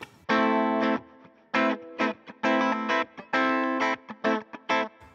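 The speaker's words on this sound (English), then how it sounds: "Here was Andreas' clean sound." Clean electric guitar through a Line 6 Helix on the bridge pickup, playing short strummed chords and phrases in bursts with gaps between, bright and sustained with a touch of effects shimmer, no talking.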